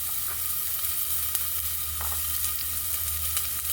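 Onion hits a little hot cooking oil in a pot and sizzles steadily, a close, even hiss with small crackles and no voices.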